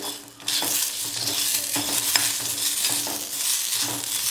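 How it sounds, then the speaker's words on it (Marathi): Whole spices with poppy seeds and fresh coriander being dry roasted and stirred in a pan for Malvani masala, giving a steady dry sizzle and crackle with repeated scraping strokes of the spoon, close and continuous. "आपले हे मसाले इकडे छान कोरडे भाजून होत आहेत"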